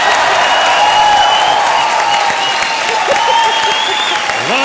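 Studio audience applause on a television comedy game show, sustained and loud throughout, a dense wash of clapping from a large crowd with no speech over it.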